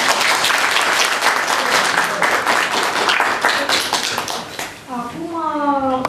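Audience applause at a Romanian literary event honouring a poet, a dense sustained clapping with voices and cheers mixed in, fading near the end as a person begins speaking.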